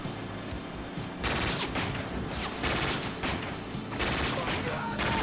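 Rapid bursts of heavy cannon fire from a boat at sea in the Scarface video game, loud and continuous in clustered volleys with brief pauses, a voice faintly under the barrage.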